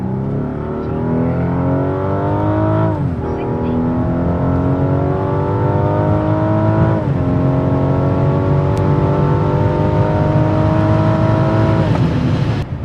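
A 600 hp Rolls Royce Wraith accelerates hard from a standstill, its engine climbing through three smooth rising sweeps with distinct gear-change dips between them, loud and close.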